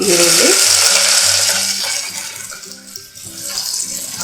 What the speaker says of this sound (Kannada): ಈರುಳ್ಳಿ ಪೂರ್ತಿಯಾಗಿ ಸಾಫ್ಟ್ ಆಗಲಿ, ಒಳ್ಳೆ ಘಮ ಬರಲಿ, ಅಲ್ಲಿವರೆಗೂ ಫ್ರೈ ಮಾಡ್ಕೊಳ್ಳೋಣ